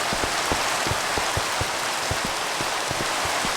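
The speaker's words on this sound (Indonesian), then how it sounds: "Tiba-tiba banget. Hujan." Steady rain in the Minecraft game world, a dense hiss with scattered distinct drop taps pattering close by, heard alone without talk.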